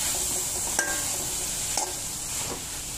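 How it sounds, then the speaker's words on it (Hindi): Capsicum, peas and corn being roasted in a pan on a medium flame for Chinese cutlets: a steady, close sizzle with a few light stirring knocks and scrapes. "और इसे 2-4 मिनट 2/2 फ्लेम पे भून लेंगे।"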